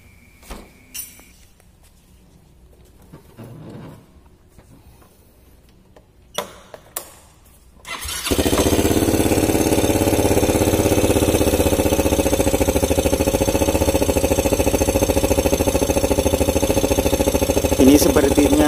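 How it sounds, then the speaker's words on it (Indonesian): A 2011 Yamaha Xeon motorcycle with a sputtering, stalling fault sits quiet amid small clicks and handling noises, then its engine starts and runs on at a steady, loud idle. "selanjutnya kita akan coba nyalakan mesinnya"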